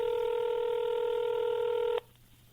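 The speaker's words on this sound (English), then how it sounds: "we're going to get her on the line right now" A single steady telephone dialing tone holds for about two seconds and then cuts off, leaving faint background hiss, with no talk.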